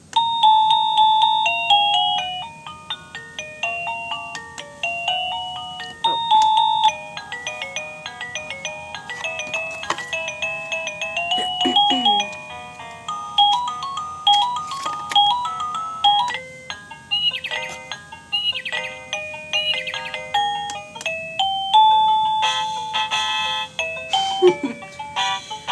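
A portable wireless doorbell cycling through its chime tunes, bright electronic melodies and ding-dong tones playing one after another, with short gaps and some clicks between them.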